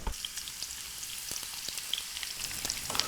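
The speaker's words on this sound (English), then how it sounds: "Nice sizzle, these can go in." Onions frying in hot oil for a Delhi chicken biryani garnish, giving a steady close crackling sizzle with scattered sharp pops throughout and no voices.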